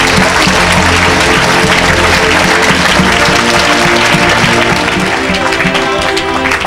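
A church congregation applauds loudly and without a break at a revival service, the clapping close and dense for the whole stretch, with music or voices underneath.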